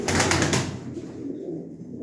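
Pigeons held for a live bird auction give a loud burst of sound at the start, then it settles into a quieter, steady backdrop of soft cooing nearby.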